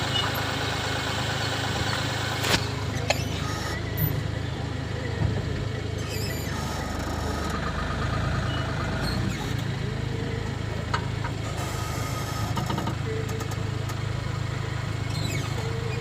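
A vehicle engine idles steadily and close by for the whole stretch, with a low constant rumble; distinct reversing beeps are not evident.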